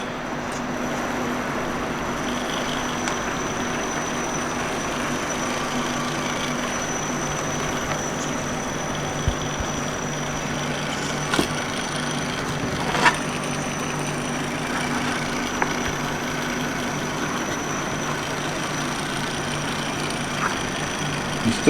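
An SCX24 RC crawler drives slowly over rocks indoors, its small motor giving a steady faint electric whine with occasional light clicks and knocks as the tires climb the rocks.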